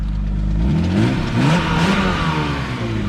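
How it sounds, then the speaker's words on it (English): A BMW 328i bought cheaply runs close by, its engine rising and falling through a few quick revs over a low rumbling idle. "And then you just put it in there, and it just starts up and runs good"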